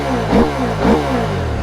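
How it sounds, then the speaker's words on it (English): Husqvarna Norden 901 parallel-twin engine revving fast, two quick blips rising above a loud, steady idle, close to the bike. "It's like a fast revving engine."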